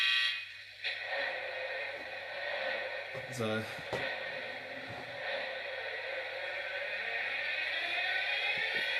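A model Class 121 diesel multiple unit with a sound unit gives a steady, droning engine hum with faint tonal whines that continues throughout, with a few short spoken words and small handling noises over it.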